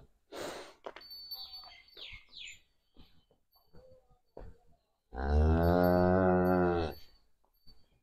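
A heifer on a farm gives one loud, close, sustained moo lasting a couple of seconds, preceded by scattered bird chirps, soft clatter and brief voices.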